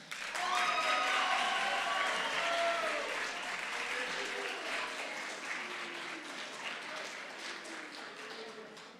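A middle school assembly audience applauds an outstanding scholar, sustained clapping that swells early and slowly tapers, with voices and cheers mixed in over the clapping.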